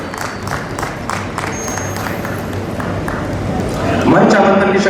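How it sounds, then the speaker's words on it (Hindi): Audience applause at a Vision Gwalior stage event at Sangam Vatika, welcoming a guest onto the stage: steady crowd clapping that swells louder toward the end, mixed with murmuring from the gathering. "जोरदार तालियों से भाई साहब का स्वागत करें।"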